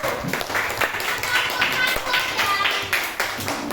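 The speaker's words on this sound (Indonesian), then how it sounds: "Tepuk tangan dulu untuk kelompok 2 dan 1." Children applauding in a classroom after a group presentation during a fractions lesson, a steady patter of small hands clapping for a few seconds with some voices mixed in.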